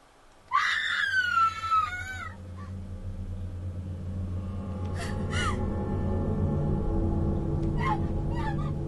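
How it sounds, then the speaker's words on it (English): A woman screams in the Corpse Party: Book of Shadows horror game, a sharp wavering cry of about two seconds followed by gasps and faint cries over a steady low rumble. "Why was Emmy screaming?"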